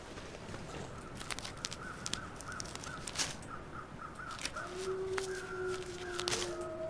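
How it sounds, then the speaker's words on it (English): A murder of crows cawing in The Long Dark, repeated harsh caws from several birds at mid distance over a windy outdoor ambience, with a few crunchy footsteps and no speech. "That murder of crows circling?"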